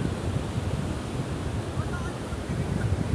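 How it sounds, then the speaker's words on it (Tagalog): Big sea waves rolling at a beach, a steady rushing wash of surf mixed with wind buffeting the microphone, fairly faint and continuous. "Ang lalaki ng alon mga kayapak."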